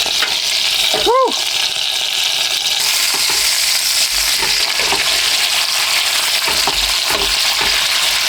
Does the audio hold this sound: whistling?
no